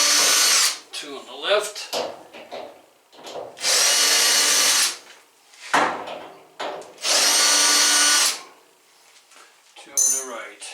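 A power drill on a Samsung dryer whines in two long, loud bursts as it drives out screws during a drum replacement, with someone talking between the runs and small clicks and clatters of parts and tools.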